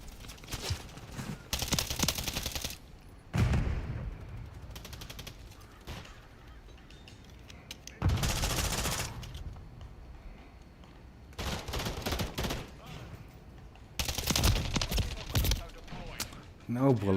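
Bursts of automatic gunfire from the Striker weapon in Call of Duty Modern Warfare III, several loud volleys separated by pauses, with game sounds in between.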